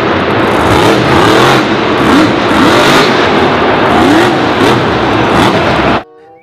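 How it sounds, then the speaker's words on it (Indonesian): An off-road monster truck toy engine sound revs loudly and close, a harsh continuous roar with rising and falling pitch swoops, then cuts off abruptly near the end. "Wih, ada mobil off-road monster."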